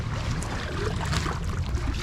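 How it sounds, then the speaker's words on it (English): Kayak paddled on a lake at incoming tide, a continuous close wash of sloshing, splashing water with a low rumble from wind or the hull, steady throughout. "today's a test day, so we're gonna just paddle at it and see what happens"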